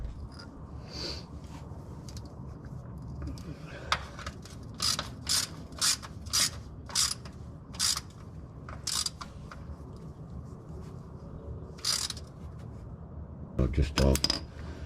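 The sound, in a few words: ratchet reinstalling Jeep JL differential drain plug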